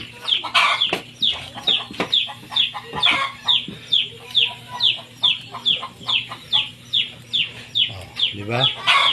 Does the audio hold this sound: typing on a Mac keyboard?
no